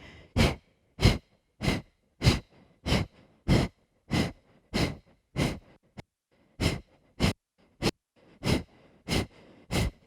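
Forceful exhalations during a Pilates breathing exercise come in a steady rhythm, about sixteen sharp, breathy puffs with one short pause midway. They are close and loud, with no talking.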